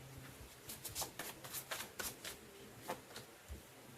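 Tarot cards are riffled and shuffled by hand in a quick series of sharp papery flutters and snaps, close and fairly quiet, with no one speaking.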